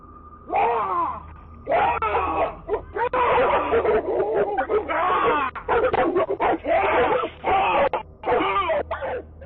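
A pack of three dogs barks and growls aggressively at a man on doorbell camera footage, with loud, overlapping barks, yips and snarls in close, irregular bursts nearly throughout.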